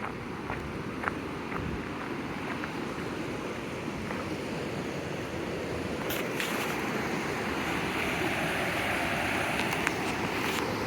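Steady rushing water flows into a mill in the Missouri Ozarks, a continuous broadband roar heard up close with a few faint knocks on top and no talk.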